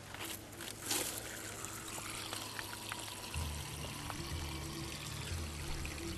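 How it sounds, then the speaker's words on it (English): Water from a hose runs steadily onto smoldering ground outdoors, a soft continuous trickling and pouring that stays faint and even throughout. "That's why I'm running the water"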